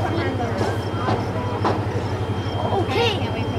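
A train rolls past at a railroad festival in Franklin Park, Illinois, a steady rumble with a rhythmic low pulse and occasional high squeals, while people talk over it.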